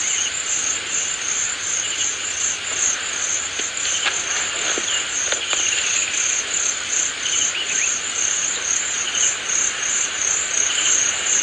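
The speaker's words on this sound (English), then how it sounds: "crickets" A played recording of crickets chirping in a dense, continuous high trill, steady throughout, with a few faint clicks and no voices.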